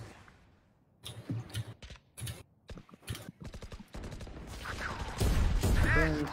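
Video game gunfire rattles in quick clusters of sharp shots, followed by a louder, continuous stretch of game action and noise, with a player's voice talking over parts of it.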